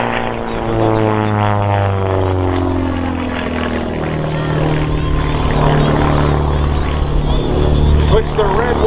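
Aerobatic propeller airplane flying a torque roll at a military air show, its engine drone loud and continuous as the pitch slowly swells and sags, steady throughout with no pause, no talking.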